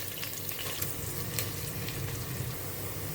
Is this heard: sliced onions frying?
yes